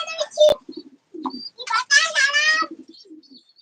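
Pigeons coo in a low, throaty rhythm, with bird chirps and calls in between, close by, plus a sharp knock partway through. No speech is heard.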